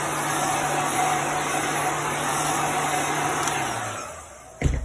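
A blower roars steadily and close up while drying chalk paint on a painted surface, then winds down before a brief knock at the end.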